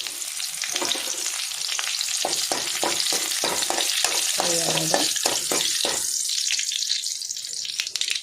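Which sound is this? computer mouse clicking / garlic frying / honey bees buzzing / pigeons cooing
garlic frying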